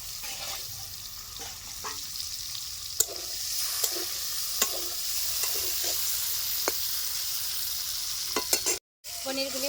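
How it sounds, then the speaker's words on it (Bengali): Paneer cubes frying in hot mustard oil in a wok, with a continuous moderate sizzle and scattered sharp clicks and scrapes of a utensil, plus a brief dropout near the end. "পনিরগুলি ভাজা হয়ে গেছে,"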